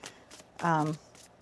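Tarot cards being shuffled give a short, quick riffling burst lasting about a third of a second, between soft voiced sounds from a nearby speaker.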